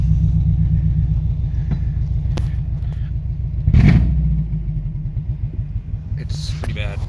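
A lifted Subaru GC8 idles roughly with no O2 sensor fitted, a steady low uneven engine rumble throughout with a brief louder surge midway, close by while a person talks over it.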